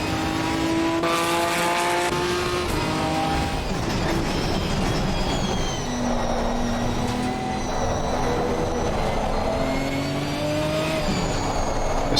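A GT4 race car engine in the Automobilista 2 racing game drones loudly and steadily, its pitch rising and falling through gear changes for the whole stretch, with no talk over it.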